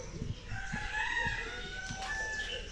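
Rooster crowing and hens clucking in a muddy village yard in Guinea-Bissau, the call rising clear over steady outdoor background noise at moderate distance, with short low thumps scattered underneath.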